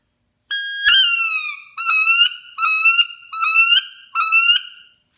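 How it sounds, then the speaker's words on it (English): A mini wood duck call made of bocote wood gives five high, squealing whistled notes, each sliding downward, played close and loud with short pauses between. "So there's a little mini wood duck call."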